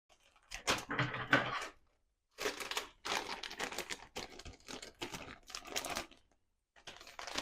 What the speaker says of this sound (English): Got the scissors here. It's a little tricky to open.